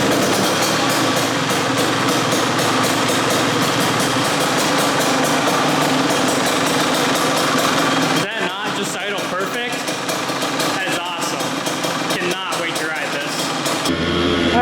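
A dirt bike engine idles steadily while warming up at a motocross track, a continuous near rumble that thins and fluctuates after about eight seconds, with a brief surge near the end.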